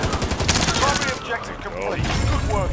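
Rapid bursts of SMG fire in a video game, close and loud, trailing off midway and then resuming more faintly, with players talking over it.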